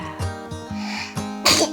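A person sneezes, with a few short explosive bursts building to a final loud sneeze up close.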